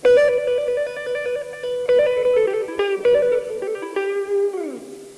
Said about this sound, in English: If you add the two techniques together, you can get trills,